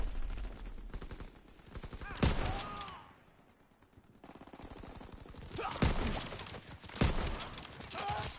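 Sten gun fire in Call of Duty WW2, rapid bursts of automatic shots with a quiet gap midway, then further sharp shots and clatter over background game sound.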